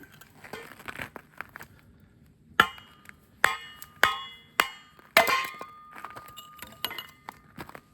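Several sharp, loud impacts in a loose series, a dull axe striking and splitting birch wood outdoors in freezing weather, with quieter knocks and rustling between blows.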